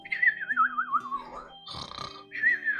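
A person imitates a sleeping giant bird creature's snore with a wavering, warbling little whistle that slides downward, a rough snorting breath, then the whistle again, alone and fairly close.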